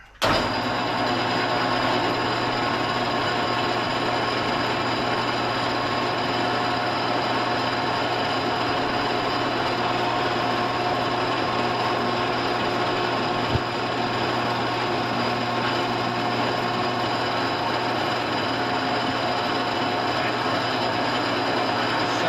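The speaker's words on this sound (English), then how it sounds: "So once again, machining with the table rising." Machining on a hydro dam machine with the table rising, a loud steady mechanical drone with constant tonal hum and grinding, one faint click partway through, no talk.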